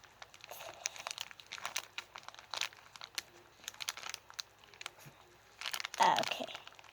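A zipper bag holding slime is crinkled and handled up close, with irregular bursts of crackling plastic and a louder rustle near the end, with no one speaking over it.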